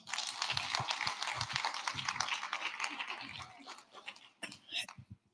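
A church congregation claps together during a Seven Last Words service, with steady, brisk hand claps and scattered voices mixed in, ending with a few separate claps.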